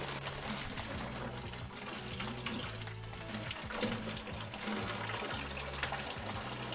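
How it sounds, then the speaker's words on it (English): Leftover water spills and gushes out of a pipe as an outdoor hose bib spigot is removed, a continuous close splashing, trickling stream with small clanks, no talking. "And we got spillage. There's a little bit of water in there."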